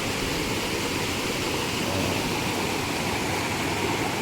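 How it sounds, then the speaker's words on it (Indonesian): Sungai Barat, a clear, shallow river, flows with a steady, close broadband rush of water, unbroken and even throughout with no voices. "Ini nama sungai ini Sungai Barat nih."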